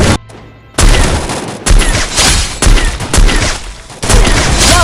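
AWM sniper rifle fire in a video game: a string of loud, sharp shots with booming tails, spaced a second or so apart, alone with no voices.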